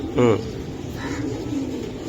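A pigeon coos once in a short throaty burst, close by, followed by quieter murmuring and faint voices in the background, among giribaz high-flyer pigeons.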